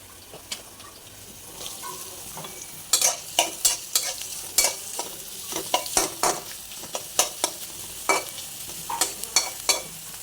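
Onions fry in an oiled wok with a steady low sizzle, broken by repeated sharp scrapes and clacks of stirring that grow busier partway through, close and alone.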